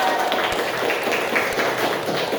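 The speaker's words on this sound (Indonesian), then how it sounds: "Tepuk tangannya lagi untuk kita" A class clapping hands in a lesson, a dense, even patter of many claps continuing throughout at a steady level, somewhat roomy and without a clear beat.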